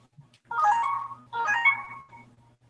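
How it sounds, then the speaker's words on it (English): An incoming call sets off a melodic phone ringtone in two short bursts, clear and fairly close. A low hum sits underneath and no one talks. "Hold on, buddy. I got a phone call."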